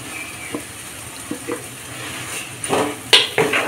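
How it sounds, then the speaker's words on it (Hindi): Mashed potatoes fried with masala in a pan for rajma, with a spoon stirring and scraping in short uneven bursts over a soft continuous sizzle, growing busier and louder toward the end. "अभी इसमें हम आलू डाल के फ्राई कर लेंगे"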